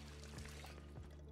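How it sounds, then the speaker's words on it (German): In the video game Project Zomboid, a water bottle is filled with a steady, continuous gush of pouring water that runs without a break for the whole moment, with no voice over it. "ich fülle nochmal meine Wasserflasche auf"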